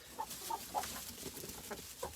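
Hens in a chicken coop with nesting boxes, one brooding on a fake egg, give several soft separate clucks spaced across the moment, fairly quiet and close, with no talk.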